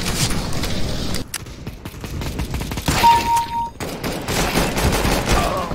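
Bursts of rapid gunfire from the Counter-Strike: Global Offensive video game, loud and close, with overlapping rattling shots and brief lulls between volleys.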